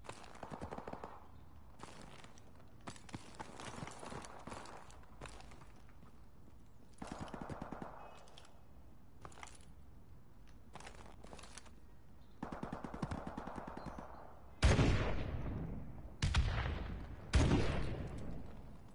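Gunfire in the video game Call of Duty Modern Warfare on PS4 Pro: repeated bursts of automatic fire separated by pauses, with the last few bursts close and much louder.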